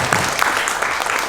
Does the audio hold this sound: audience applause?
yes